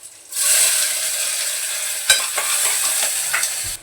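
Onion and curry leaves hit hot oil with a sudden loud sizzle that stays as a steady hiss, marked by a few sharp crackles and spatters along the way; no one speaks.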